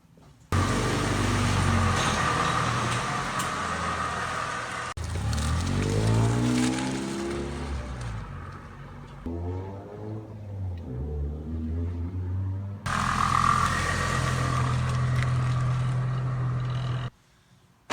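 A 1999 Honda Civic with a newly fitted Speed Factory shifter spring on a test drive: engine note climbs through several gears with rising harmonics and clear pauses at the shifts, steady road noise throughout, then an abrupt cut near the end.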